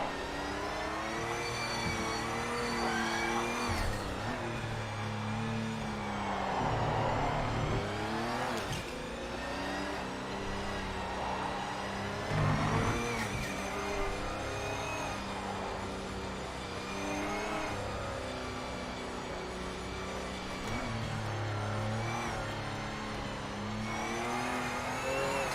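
A race car in the Project Motor Racing video game drones on continuously, its engine revving and shifting through gears with steady tyre and road noise, loud and unbroken, no speech.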